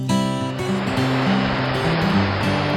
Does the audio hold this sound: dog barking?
no